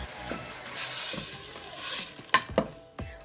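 Garlic and millet are stirred in an oiled frying pan, a close sizzling fry under repeated scraping stir strokes, with a few sharp utensil knocks against the pan near the end.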